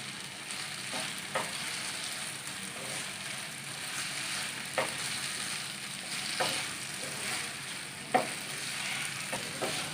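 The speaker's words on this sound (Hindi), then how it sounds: "प्याज को भी 2 से 3 मिनट तक फ्राई करेंगे।" Finely chopped onion frying in a pan with oil for an omelette, a steady moderate sizzle with occasional soft stirring scrapes and clicks, no voices.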